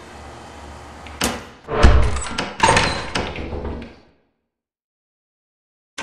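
A door opens in the video game Lethal Company with a sequence of heavy mechanical thunks and scraping clanks over about three seconds, then cuts to silence.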